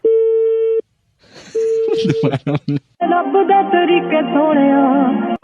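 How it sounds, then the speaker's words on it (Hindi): A telephone line cutting off mid-call: a steady busy tone, a break, a few short tone pulses and line noise, then a warbling electronic signal, all loud and close with no voices. "वो टेलीफोन लाइन कट गई थी मेरे ख्याल से"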